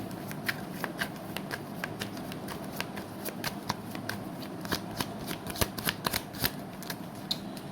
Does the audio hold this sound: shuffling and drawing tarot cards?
yes